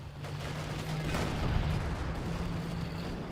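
Artillery fire in the strategy game Company of Heroes: a dense, continuous rumble of distant shots and blasts layered over a steady low hum, peaking midway through.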